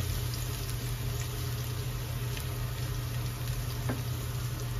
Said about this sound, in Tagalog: gigisahin muna natin yung bawang. Hindi naman marumi yan eh. Gisahin muna natin hanggang sa mag-brown ng konti.